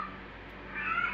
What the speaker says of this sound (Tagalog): Yung pusa ng nanay ko,